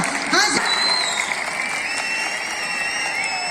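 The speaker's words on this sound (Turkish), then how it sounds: "Alkışlar gelsin, gürültülü alkışlar Göyçay'ımıza" Crowd applause at the 16th pomegranate festival in Göyçay, a sustained outdoor clapping wash with a few brief whistles or tonal sounds near the start, holding steady at moderate loudness.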